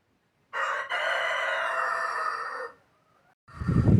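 A rooster crows once up close, a loud, drawn-out call lasting about two seconds, then quiet before a burst of rustling noise.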